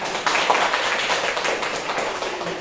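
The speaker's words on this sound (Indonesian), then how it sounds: "Tepuk tangan dulu teman-teman" Students in a social studies classroom clap their hands together in a brief burst of brisk, evenly spread clapping that fills the room without any talking.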